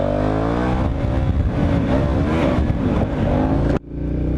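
Adventure motorcycle on Mitas E07+ dual sport tires pulling out of a driveway, a loud close engine hum rising in pitch as it accelerates, cut off abruptly near the end.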